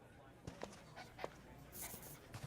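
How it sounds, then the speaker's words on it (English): Beef, a dog character from the video game Dispatch, pants in short quick breaths and lets out a few faint whimpers, soft and close, with a voice speaking over part of it. "I love the dog. I love the dog's voice."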